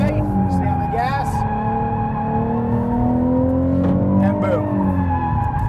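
A Ford Mustang drifting with a clutch kick, its engine revving hard and droning steadily under a man's spoken coaching, with brief tire squeal and pitch swings as the throttle stays on.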